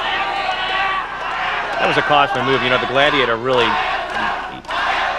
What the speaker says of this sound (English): Fans cheering for Hayabusa.